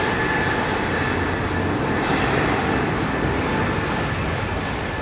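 Airliner engines roar steadily at London Heathrow Airport, a dense, continuous jet rumble and hiss that stays loud and unbroken throughout, with no voices.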